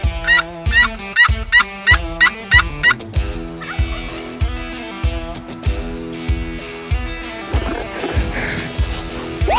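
Rio wild turkeys gobbling in a rapid repeated series during a Kansas hunt, loud and close, with several birds overlapping and calling back and forth.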